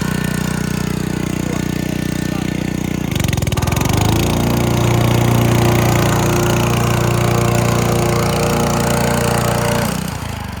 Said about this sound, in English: Let the mower do the work.